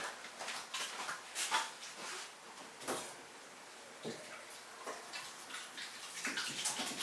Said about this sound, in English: I'm just going to go over there, wash my hands.